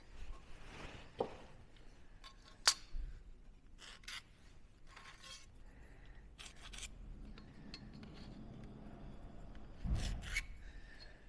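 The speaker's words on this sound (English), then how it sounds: "I'll draw it out on the top of the stone here for" Pencil or marker drawing out a molding layout on top of a stone block makes quiet, close scratching strokes in short, separate bursts, with a few light taps and some low handling noise between them.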